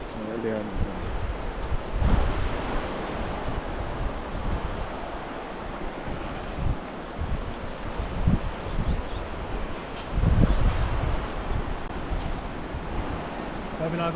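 Steady gusting wind roars over the Po Chu river in Bhutan, near a hanging suspension bridge. A dense, rushing broadband noise that buffets the microphone, with a few stronger gusts swelling through.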